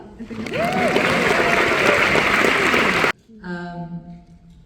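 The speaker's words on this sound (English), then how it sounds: "You guys can clap." An audience at a film screening and director Q&A breaks into full, steady applause that cuts off abruptly, and a voice then starts speaking close by.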